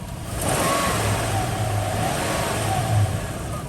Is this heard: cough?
no